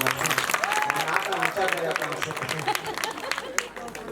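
Loud applause from a seated audience at a Ram katha religious gathering, dense continuous clapping with crowd murmur and a voice audible beneath it.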